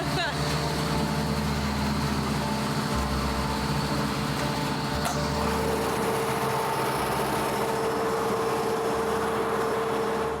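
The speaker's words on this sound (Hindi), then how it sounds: "आखिर में हमें वो बायोगैस मिलती है जो इस बड़े V12 इंटरनल कंबस्शन इंजन को चलाए रखती है" A large V12 internal combustion engine burning biogas drives a generator at a plant processing organic waste, giving a steady, loud, continuous rumbling drone with low pulsing bands throughout, no voices over it.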